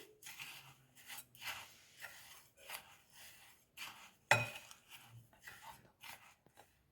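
Patishapta pitha batter with sugar being stirred in a bowl by hand: a run of short, rhythmic scraping and swishing strokes, close and fairly soft, with one sharper clink of utensil against the bowl partway through.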